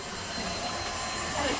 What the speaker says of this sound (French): avec un petit coup d'aspirateur.